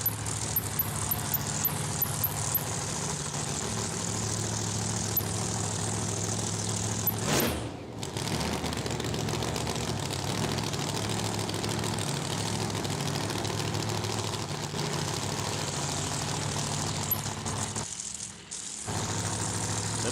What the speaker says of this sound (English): This car of Dave Shee's is loud, but it's not as loud as a blown car.